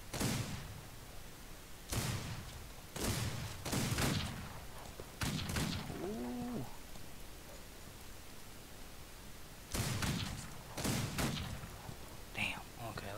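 Gunshots from the Old West video game Outlaws of the Old West ring out as sharp, loud bursts, several single and doubled cracks spaced across the stretch, with a player talking briefly between shots.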